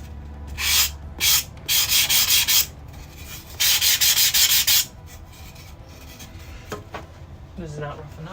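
Rough sandpaper rubs back and forth in short, loud scratchy strokes, a burst of four or five passes, a pause, then another run, followed by quieter handling noises and faint clinks.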